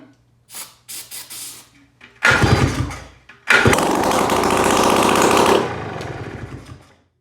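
A Polaris ATV engine with no exhaust fitted starts for the first time after a complete rebuild: a few sputtering cranks, then a harsh, very loud roaring idle that revs and holds before settling.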